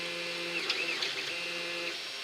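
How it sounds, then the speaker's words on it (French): An Anet A8 3D printer begins a print, its stepper motors giving a steady whining hum with shifting tones and a few faint clicks, close and moderately quiet. "l'impression commence."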